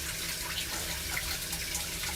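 Grain rinsed under a running kitchen tap, a steady, fairly quiet hiss of flowing water splashing into a sink, unbroken and with no voices.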